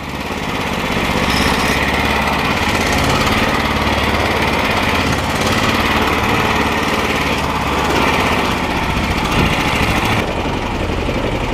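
A 13hp longtail engine drives a flat-bottom boat on a river with a loud, constant buzzing drone. It runs close and steady throughout, with no one speaking over it.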